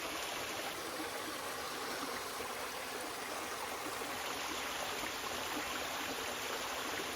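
A clear mountain stream runs steadily down a high-altitude slope beside a remote hermitage, a constant close broadband rush of flowing water with no pauses and no voices.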